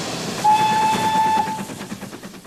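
A restored Great Western Railway steam locomotive running, a loud sustained whistle-like tone held for about a second over steady rumbling and rhythmic chuffing, with no talk.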